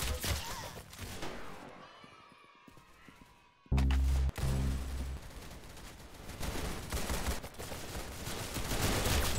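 Rapid bursts of gunfire in the Arsenal video game, with loud automatic shots clustered through much of the stretch and one sharp, heavy blast near the middle, set against a busy game backdrop.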